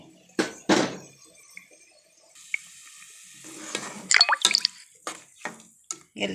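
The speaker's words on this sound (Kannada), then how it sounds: "ನೀರು ಹಾಕ್ಕೊಳ್ತೀನಿ." Water pours into a pressure cooker of rice for a couple of seconds, followed by stirring, clinks and scraping from a metal utensil.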